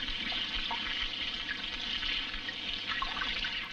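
Fresh mountain water flowing steadily, a continuous broadband rush with soft splashy detail, close and fairly loud throughout, with no voices.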